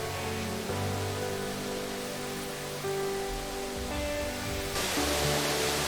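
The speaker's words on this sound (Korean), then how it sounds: "코스타리카에서 제일 큰 폭포 디아만테가 기다리고 있기 때문이다" Diamante waterfall in Costa Rica, the country's largest, pours in a continuous broadband rush of falling water, steady and moderately distant, with no voices.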